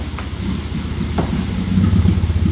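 A BMW E46 engine idling rough, a steady low rumble with slight unevenness that rises a little toward the end, heard close up with no talk.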